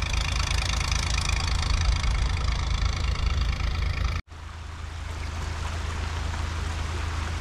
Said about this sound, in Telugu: భారీ మోటార్ సహాయంతో తోడిపోస్తున్న నీటిని కాలువల ద్వారా బయటకు అయితే మళ్లించడం జరుగుతుంది.